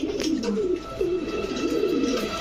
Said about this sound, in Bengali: আজকের কবুতরগুলো কিন্তু খুবই অ্যাক্টিভ